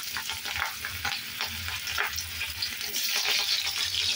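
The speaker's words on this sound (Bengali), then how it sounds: "কড়াতে তেল দিয়েছি, তেলটা বেশ ভালো করে গরম হয়েছে। আমি একটু বড় বড় করে কাটা কতটা পেঁয়াজের টুকরো এতে দিয়ে দিচ্ছি।" Large onion pieces fry in hot oil in a wok with a loud, dense sizzle and crackle, pulsing with stirring and swelling stronger toward the end.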